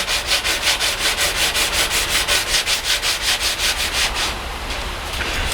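Rhythmic rasping strokes of sandpaper rubbing wood, about four per second, close and steady, then a brief smoother stretch at the end.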